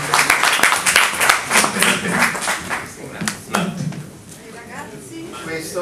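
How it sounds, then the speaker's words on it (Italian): Applause from the audience at a historical conference in Mignano Montelungo, with dense clapping building after a plaque presentation, mixed with a speaker's voice and room chatter before thinning toward the end. "Un applauso."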